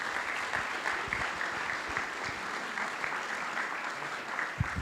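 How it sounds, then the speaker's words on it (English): Audience applause at a community services district heroes luncheon: steady, dense clapping from a room of people, sustained evenly for several seconds with no talk over it. "Let's give him a round of applause."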